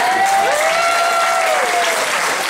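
An audience at a live music performance breaks into a full burst of clapping that lasts the whole moment, with a high whistle rising above the applause.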